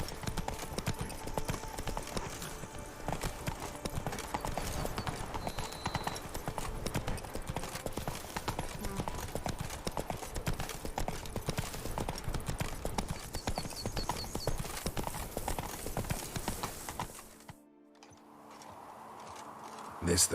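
Hooves of a horse gallop in rapid clip-clop rhythm across open ground in The Witcher 3 video game, loud and continuous for most of the stretch before cutting off into a quieter tone near the end.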